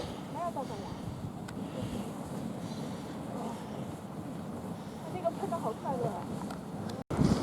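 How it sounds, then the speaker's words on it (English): Old Faithful geyser in Yellowstone National Park gurgles and churns with a continuous low rumbling wash, steady and moderately loud, with outdoor wind noise over it. "It's gurgling and carrying on and pumping out a fair amount"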